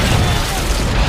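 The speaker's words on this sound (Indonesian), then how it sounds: "Ledakan itu menghancurkan sebagian besar gedung" A deep, rumbling boom from an explosion in a building fills the space, loud and sustained, with heavy low-end roar and a faint voice underneath.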